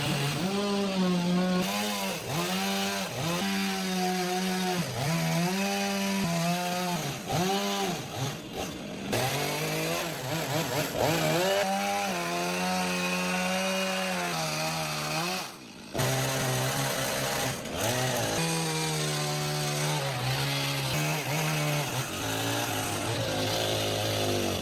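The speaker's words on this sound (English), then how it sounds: "The excess logs sticking out around the window are being trimmed with a chainsaw to make them even" A chainsaw trims excess log ends around a window opening of a log house in the forest, its engine revving and bogging in repeated cuts, loud and close, with a short idle dip midway.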